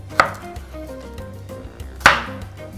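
A knife chops on a board while vegetables are finely diced for a Christmas barbeque, two sharp close knocks about two seconds apart over a low steady hum and soft background clatter.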